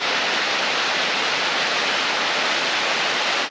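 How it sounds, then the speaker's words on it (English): Steady, dense rush of falling and flowing water from streams and waterfalls beside the town of Edessa, Greece, close and loud, continuous broadband roar with no voices. "there's a lot of streams and waterfalls in this area right here, right next to the actual town itself"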